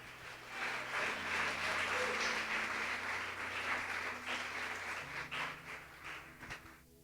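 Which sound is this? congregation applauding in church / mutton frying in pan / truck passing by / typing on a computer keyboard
congregation applauding in church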